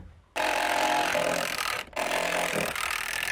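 Dnipro-M DTD-200 cordless impact driver boring holes in wood: a loud, continuous high whirring drive with a short gap near two seconds before it spins up again, close and without talk.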